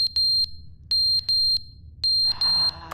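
A smoke alarm in the video game The Stanley Parable chirps in bursts of rapid high electronic beeps, two or three pips per group with short gaps, clear and prominent, with a faint hiss under the final bursts.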